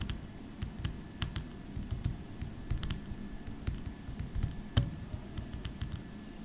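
Fingers typing on a computer keyboard, a steady run of close, crisp key clicks with irregular rhythm and a few louder taps, nothing else heard.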